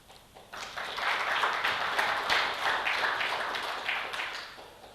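A welcome address audience at an information security event breaks into applause that swells quickly, then stays full and even before tapering slightly at the end.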